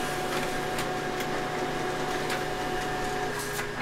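An office printer runs a prescription printout with a continuous whirring mechanical drone and a few faint clicks as the paper feeds. No one speaks.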